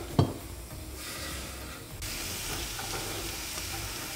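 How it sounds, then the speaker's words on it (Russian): Onion and carrot hit a pan of hot vegetable oil with a sharp initial clatter, then settle into a steady frying sizzle that rises and hisses evenly as they cook. "И сразу же отправляем жарить и лук,"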